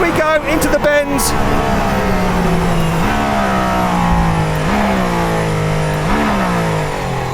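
A Mercedes-AMG One racing on the Nürburgring, its engine holding a loud, steady high-revving whine that climbs in pitch with each upshift, punctuated by brief dips, with a voice speaking over it.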